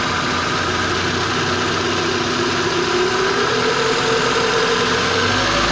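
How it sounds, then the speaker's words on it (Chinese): Toyota car engine running at idle during air-conditioning refrigerant charging, a loud, steady close-up rumble with an even drone throughout and no talking. "来，助理麻烦你发动一下吧"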